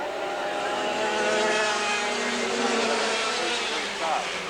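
Dirt karts race around a track, a dense buzzing drone of several small engines that rises and falls as they pass. Someone talks over the noise.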